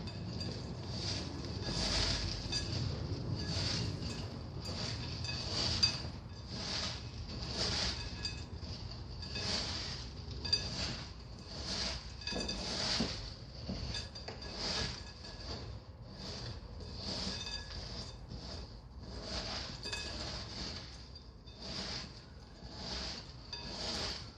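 Crushed Oreo cookies and cream cheese mixed by hand in a bowl for Oreo balls, a steady run of soft scraping, squishing and clinking strokes up close, repeating in an uneven rhythm.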